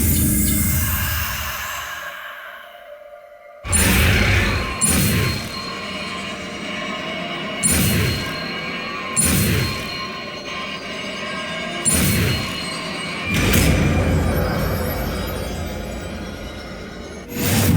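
Spell blasts from the Confringo fire curse cast in the video game Hogwarts Legacy, several loud bursts after a quiet opening, spaced a second or two apart over a steady ambient bed.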